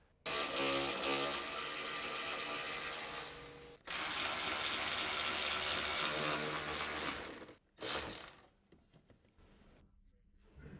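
A wrench backs out the mounting bolts on a car's radiator upper support, producing long runs of steady ratcheting clicks, close and fairly loud, broken by short pauses before fading near the end.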